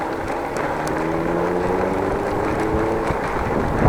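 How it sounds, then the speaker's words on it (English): A sporty little car pulls away, heard from a bicycle on the Damsterdiep trail; its engine drones steadily at mid distance under broadband wind and road noise. "Sounds like a sporty little car driving away from me."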